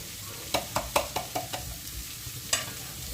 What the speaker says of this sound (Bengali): লাউয়ের সাথে ভালো করে মিশিয়ে নিচ্ছি